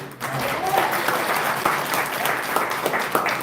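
At a community meeting in Dolton, an audience claps steadily, a dense wash of many hands at moderate loudness that carries through the whole moment.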